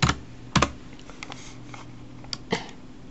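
Typing on a computer keyboard in a quiet room: a few scattered key presses with sharper clacks near the start and end, close and otherwise silent.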